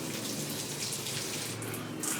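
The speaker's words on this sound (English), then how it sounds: "I'll bring it to my bathroom. Okay. Just to show, I'll just water them." A bathroom tap runs steadily as a houseplant is watered beneath it, a continuous close splashing of water with no talk.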